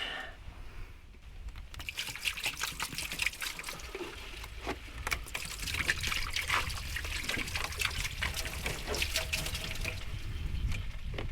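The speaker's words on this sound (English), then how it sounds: "I am going to rinse the coolant off the engine with some distilled water" Distilled water trickling and splashing off a car engine into a basin below, a continuous close dribble and patter that grows slightly stronger, with no talk.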